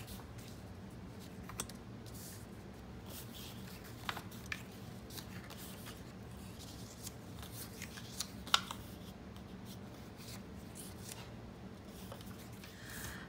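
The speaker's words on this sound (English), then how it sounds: "Okay, let's start gluing our paper down." Paper handled and glued down in a Christmas-themed Happy Planner, heard as soft close rustling and light tapping clicks scattered through a quiet room, with no talking.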